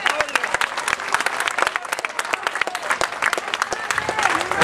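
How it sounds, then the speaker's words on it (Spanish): A congregation at an evangelical church service in the Bronx applauds vigorously, dense rapid clapping with some crowd voices mixed in, loud and continuous. "Él está seguro, dale un fuerte aplauso."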